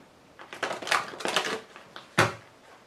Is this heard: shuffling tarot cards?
yes